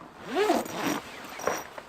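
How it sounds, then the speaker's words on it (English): The zipper on the solid exterior of an RBM Panda M hot tent is pulled shut in one close, quick, rasping run with a short second tug. "Then you got to come over here and get this zipper."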